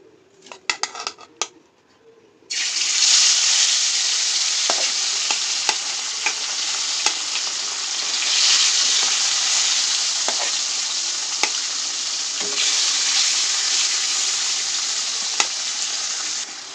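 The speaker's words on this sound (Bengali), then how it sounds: "মাছটা হালকা করে ভেজে নেব।" After a few quiet clatters, pabda fish goes into a hot pan and a strong, steady sizzle fills the rest, with occasional sharp taps of a utensil against the pan.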